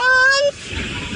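A single loud, honking crowned crane call, played back from a recording, rings out for half a second, then fades into faint background noise.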